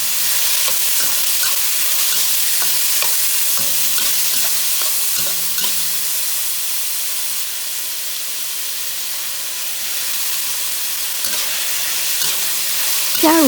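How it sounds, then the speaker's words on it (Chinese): Corn and green peas stir-fried over high heat in a wok, a steady loud sizzle with intermittent scraping strokes of the spatula, close up and without talk. "继续大火翻炒。"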